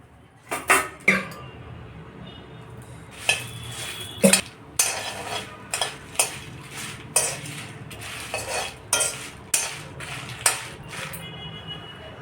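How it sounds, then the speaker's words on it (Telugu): Curry leaves frying in a pan for a roasted chili powder, with a soft sizzle under sharp, irregular clinks and scrapes of a metal spoon stirring against the pan, close up and without speech. "ఇందులోనే కరివేపాకు కూడా వేస్తున్నా ఇలా ఫ్రై అయితే సరిపోతుంది"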